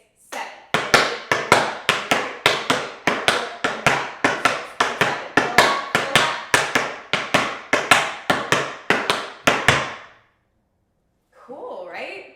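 Tap shoes beat out rapid flap steps on a hard floor, alternating sides in a steady, even rhythm of sharp close clicks for about ten seconds, then stop; a brief voice follows after a pause.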